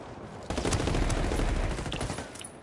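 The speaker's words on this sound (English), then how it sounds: "Oh, I shot him in the ankle." Gunfire in the tactical shooter game Ghost Recon, a dense, loud burst of rapid shots and automatic fire that starts after half a second and keeps going with no talking.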